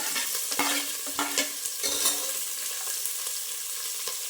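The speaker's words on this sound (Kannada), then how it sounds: "ಹಸಿಮೆಣ್ಸಿನ್ಕಾಯಿ ಸ್ವಲ್ಪ ಫ್ರೈ ಹಾಕ್ಕೊಂಡ್ಮೇಲೆ ಈರುಳ್ಳಿ ಆ್ಯಡ್ ಮಾಡ್ಕೊಳ್ತಾ ಇದ್ದೀನಿ" Green chilies and onion fry in a pan, giving a steady broadband sizzle throughout, broken by a few scraping stirs and clinks of a spatula, close and moderately loud with no talking.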